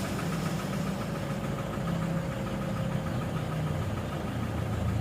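Toyota Hilux engine running at a steady idle with a rough, knocking mechanical rumble, heard close and continuous with no start visible.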